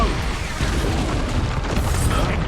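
A spell blast from the Expulso explosion charm in Hogwarts Legacy, a loud, sustained booming rumble lasting the whole moment with dense low-end energy and no pause.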